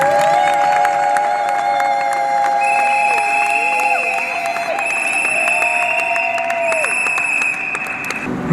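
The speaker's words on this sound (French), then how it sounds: "Non, on applaudit si c'est bien elle." Wedding guests clap and cheer at a nuptial ceremony, a loud sustained wash of applause and whoops with high whistles and sung tones ringing over it.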